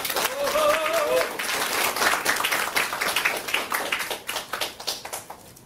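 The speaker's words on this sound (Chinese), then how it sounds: "我们当然呢就要用最热烈的掌声、迷人的眼神来欢迎我们的黄子毅黄老师" An audience at a presentation meeting claps to welcome a speaker. The applause starts dense and full, then thins into scattered separate claps as it dies away, with a brief voice near the start.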